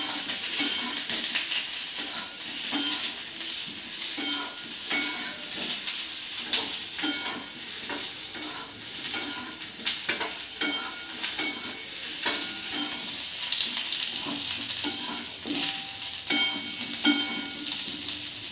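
Capsicum, tomato and paneer roasting on a low flame, with a continuous soft sizzle and hiss under frequent light stirring and scraping strokes in the pan, close and steady throughout.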